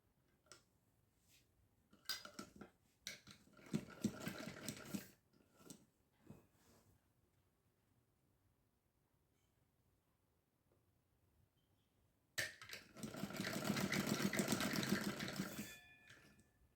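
A sewing machine stitches velvet trousers in two bursts: an intermittent, clattery run early on, a quiet pause, then a steady, loud whirring stretch near the end, with no talk.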